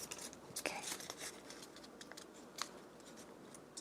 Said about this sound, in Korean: 한쪽씩 접으시면 돼요.